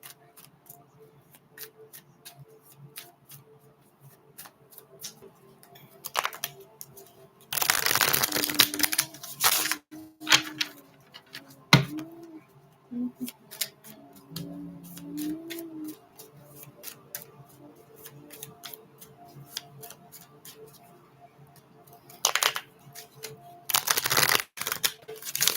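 Tarot cards are shuffled in bursts of dense riffling, a long run early and a couple of shorter ones near the end, with softer card handling between and a faint voice humming low in the background.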